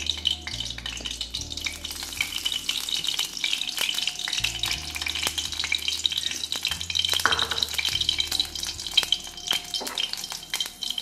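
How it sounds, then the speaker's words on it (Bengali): Mustard oil sizzles and crackles in a wok over a gas flame, a steady close, dense frying hiss that runs unbroken for about eleven seconds with occasional sharper pops and no one talking. "সর্ষের তেলটা একটু গরম হতে দিতে হবে"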